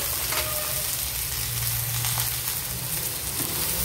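Green chillies hit hot oil in a pan, a loud continuous close-up sizzle and crackle holding steady throughout, with no talking.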